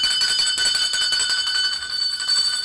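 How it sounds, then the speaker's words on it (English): A bell rings continuously in fast repeated strikes, bright and metallic with a sustained ringing tone, loud and close for a few seconds with no talk over it. "Yes, ring the bell."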